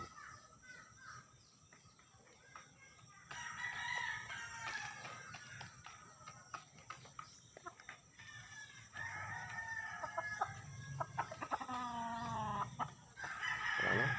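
Gamecocks on a Filipino backyard farm crow repeatedly in long rising calls, some close and some farther off, mixed with scattered clucks over a quiet, faintly humming background.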